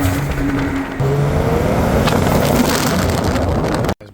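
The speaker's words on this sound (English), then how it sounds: "Guys, back on the golf cart." A golf cart drives along with a loud, close, continuous motor whir and rolling road rumble that holds steady, then cuts off abruptly near the end.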